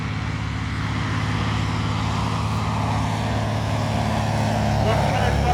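Two vintage Fokker triplanes fly overhead together, their engines making a steady, continuous drone that swells slightly toward the end.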